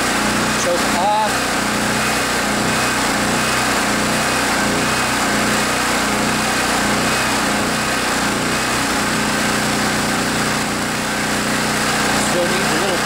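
Generac Centurion 3250 portable generator engine running on partial choke in cold weather after storage, a loud, close, continuous buzzing drone with a pulsing, uneven low-end beat, while someone talks over it.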